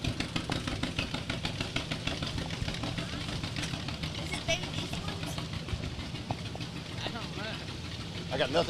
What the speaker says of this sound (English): Looks like Steve Krause, John Deere A